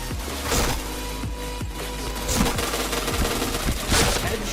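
Rapid bursts of automatic gunfire in a shooting video game, loud and close, with repeated rattling volleys and sharp single shots packed across the whole stretch.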